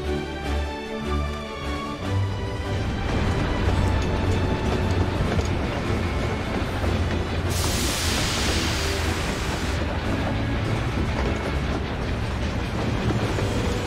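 A steam and ceruleum powered train pulls in within Final Fantasy XIV: Dawntrail, a loud, steady rumbling roar with low mechanical drone and a brief hissing burst of steam midway, no talk.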